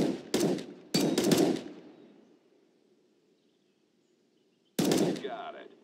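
Short bursts of rifle fire in Counter-Strike: Global Offensive weapons training: two quick volleys close together, a fading tail, then a later burst, loud and close with no talk.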